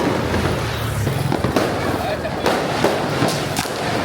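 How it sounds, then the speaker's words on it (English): Fireworks launch without pause during Chinese New Year in Penang, Malaysia, a dense barrage of nearby pops and crackles over a constant roar, with a voice talking over it. "they've been launching fireworks off the whole time"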